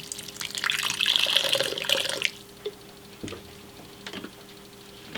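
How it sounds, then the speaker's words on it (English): A spray bottle mists the enclosure of a Mexican redknee tarantula, making a close, steady, airy hiss for about two seconds, followed by a few soft clicks and taps in near quiet. "And then I do also mist her enclosure."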